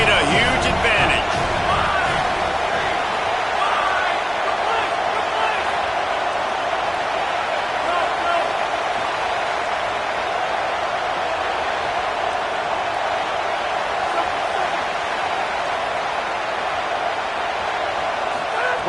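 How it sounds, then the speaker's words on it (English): Home crowd in an arena roaring loudly at a football game, a sustained dense wall of cheering and noise throughout, with a commentator's voice over it at the start. "And how loud is it in this building? This is crazy. These fans are going absolutely nuts."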